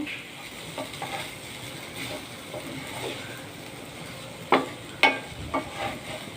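Ivy gourd (tindora) curry cooks in a pan with very little oil, giving a soft, steady sizzle with occasional spoon scrapes as it is stirred, including two louder scrapes near the end.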